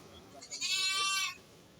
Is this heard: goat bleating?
yes